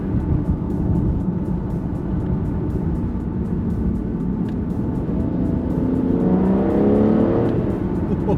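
An Aston Martin Rapide S with a V12 engine accelerating, with a steady, throaty engine drone and road rumble that rises in pitch toward the end as revs build.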